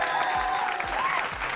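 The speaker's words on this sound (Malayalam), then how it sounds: "ഗ്ലാസ് വയ്ക്കുമ്പോ കൈയടിക്കണം" A studio audience at a stage show claps in a brief, steady burst of dense applause.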